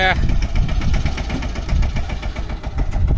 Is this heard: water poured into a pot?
no